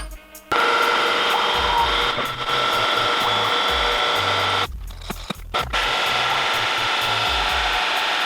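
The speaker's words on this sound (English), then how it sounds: "I'm going to pre-drill it with 7mm drill" A loud, continuous power drill whirs steadily, pre-drilling holes in plates with a 7mm bit, grinding rasp, pausing briefly once before resuming.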